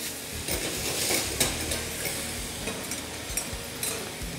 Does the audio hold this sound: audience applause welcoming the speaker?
no